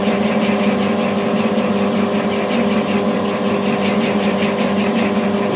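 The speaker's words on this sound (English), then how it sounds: "Basically I want to bore this out to around about an inch." Milling machine boring out a hole about an inch wide with a boring head, a constant close whirring and machine drone with a fast rhythmic cutting flutter, steady throughout with no pauses.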